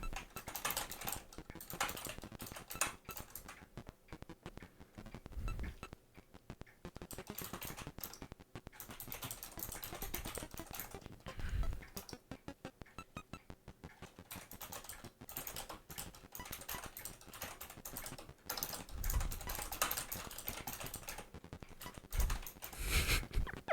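Steady, close clicking of keystrokes on a computer keyboard, with bursts of rapid typing and short pauses over about twenty-four seconds, heard alone as a relaxing typing session.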